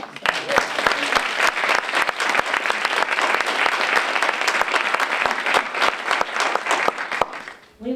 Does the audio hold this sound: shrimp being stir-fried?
no